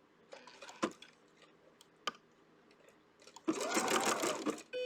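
An embroidery machine monograms specialty fabric, stirring with a few isolated clicks and thumps before breaking into a loud, rapid stitching run near the end.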